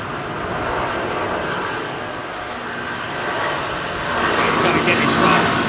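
An airliner taking off from Heathrow runway 27R, a steady broad jet roar that swells louder toward the end, with a commentator talking over it.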